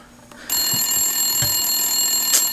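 A phone rings with a sustained, high electronic tone, loud and close, with a few soft taps and clicks underneath.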